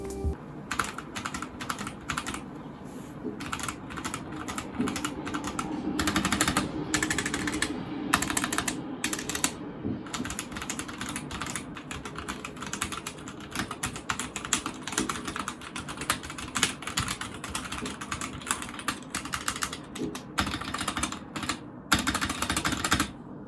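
Continuous typing on a Drop ENTR mechanical keyboard with stock switches, a steady stream of close, crisp clacks and thocks with occasional brief pauses, loud and alone without talk.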